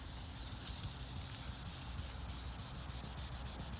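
Wet sanding of scratched black car paint by hand with 3000 grit sandpaper produces a steady, close, continuous rasping rub with quick rhythmic back-and-forth strokes.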